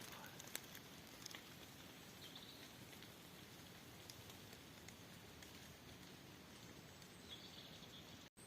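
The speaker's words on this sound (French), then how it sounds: "Le petit bruit des gouttes qui tombent des arbres." Water drops fall steadily from the trees in a forest near Guerlédan, making a dense, even patter like light rain that carries on throughout with no break, soft and close, with no voices.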